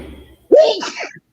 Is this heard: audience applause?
no